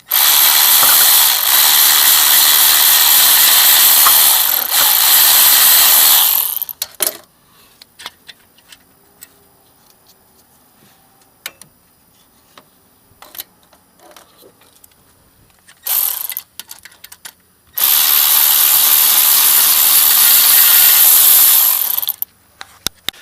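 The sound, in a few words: ratchet unbolting alternator on Honda Civic Si K20Z3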